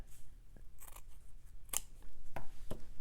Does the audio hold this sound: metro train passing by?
no